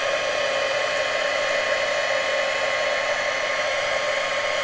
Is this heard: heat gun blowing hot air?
yes